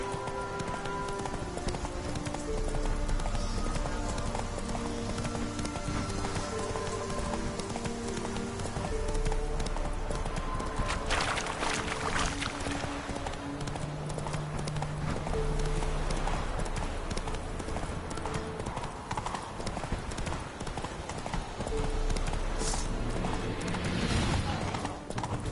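Roach, a horse in The Witcher 3 video game, gallops in a steady rhythmic clip-clop of hooves over a continuous bed of game music and ambience, with no talk.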